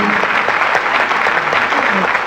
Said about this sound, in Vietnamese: Bé Khoa vừa vỗ tay.